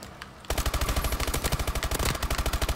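Loud, sustained automatic gunfire in Call of Duty: Advanced Warfare, a fast, even stream of shots that erupts after a brief quieter lead-in and keeps going to the end.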